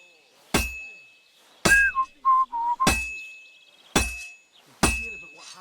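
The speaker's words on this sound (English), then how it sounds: "Now take the hammer and try hitting it a few times." A hammer strikes a heated sword on an anvil in a medieval smithy, five sharp ringing metallic blows spaced about a second apart, each followed by a lingering clang, with a short whistled tune between strikes.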